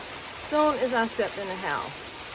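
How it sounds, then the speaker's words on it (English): A steady, dense hiss of heavy rain runs throughout while a voice speaks briefly over it. "It is raining, like pouring rain."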